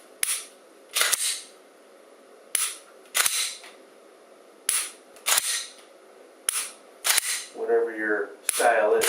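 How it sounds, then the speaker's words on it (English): A SIRT training pistol dry fired indoors makes sharp, close snapping clicks, each single or paired, in a slow irregular series with quiet gaps, and a brief voice near the end. "Then you can dry fire."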